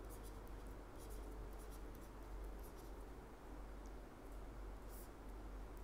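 Pen or marker writing out steps on a board or page during a Hindi-language accounting lecture on assignment technique, a faint steady scratching and rustling texture running throughout at low level with no talk.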